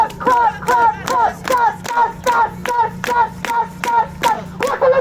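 A rally crowd in Philadelphia, marking the PS752 anniversary and protesting the Islamic Republic, claps together in a steady beat, loud and close, with chanting voices running under the sharp, evenly spaced claps.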